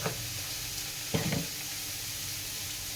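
A little oil sizzling in a hot pan before fish is fried, a steady close hiss broken by a brief stirring clatter near the middle.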